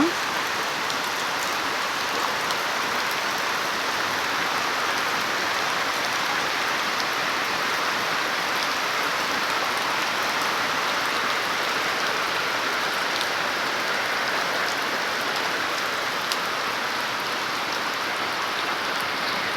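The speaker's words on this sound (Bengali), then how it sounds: "অনেক বৃষ্টি হচ্ছে জোরে" A long stretch of heavy rain in a village falls in a constant, even roar of drops, close and unbroken from start to finish.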